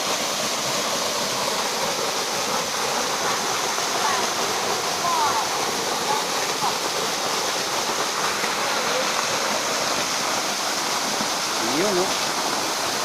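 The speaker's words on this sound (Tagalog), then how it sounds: "Malakas ngayon yung tubig no." A waterfall at a falls near a barangay pours with strong, steady rushing water, a dense unbroken roar close by, with faint voices barely audible beneath it.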